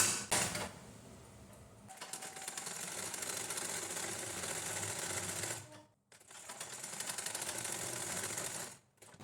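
A sewing machine runs steadily, stitching the lining of a blouse, with a loud continuous whirring hum that stops briefly twice before starting again.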